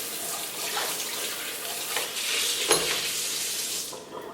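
Water from a kitchen tap pours in a steady, fairly loud hiss as chicken and fish are rinsed to remove vinegar, and no one speaks.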